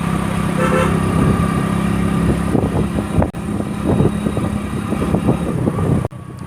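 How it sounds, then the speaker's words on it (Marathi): A car's engine runs steadily on the Amboli ghat mountain road, a continuous close rumble with no speech. "इथे मी थोडी गाडी थांबवतो."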